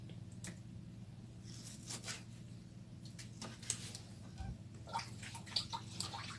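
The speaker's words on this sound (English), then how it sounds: "I'm rinsing it for the last time before cooking" Diced meat being rinsed in water for pepper soup, with soft squishing and sloshing handling sounds and occasional drips, steady and fairly quiet against a low background hum.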